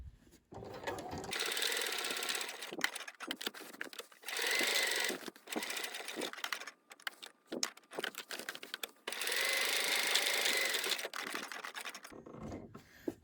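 A sewing machine stitches across the top of a pocket in several loud bursts of rapid mechanical chatter with short pauses between them, and some slower stitches are turned by the hand wheel.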